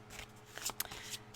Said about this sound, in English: I am going to shuffle these.